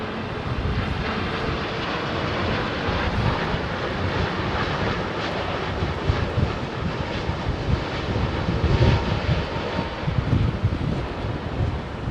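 A WestJet airliner passes overhead at London Heathrow Airport, a broad steady jet-engine roar that swells gradually, mixed with wind buffeting the microphone and no talk.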